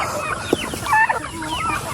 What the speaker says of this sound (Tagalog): lalabas na rin yung mga manok natin dito